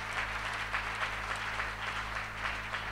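A church youth gathering applauding, with a crowd clapping in a steady, pulsing rhythm for about three seconds, heard from within the room.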